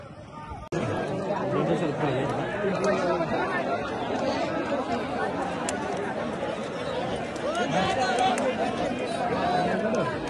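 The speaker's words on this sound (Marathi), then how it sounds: "आता आपण पोहोचलो अड्ड्यामध्ये बघा, फुल गर्दी आहे" A packed crowd chatters at a wrestling ground, a dense, steady babble of many voices close around, loud and continuous after a sudden start.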